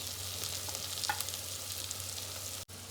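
Masala with coriander leaves and coriander powder frying in a pan for a Karnataka-style tomato bath, a steady close sizzle with faint stirring scrapes, no voices.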